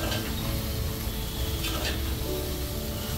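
A spiced cauliflower and potato sabzi, steamed florets and cut potatoes, sizzles steadily in a pan over a high flame while being stirred, with soft scraping and clinking of the spoon under a continuous close frying hiss.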